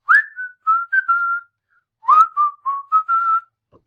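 Someone whistles a short bouncy tune, two matching phrases of rising and held notes separated by a brief pause, clear and alone.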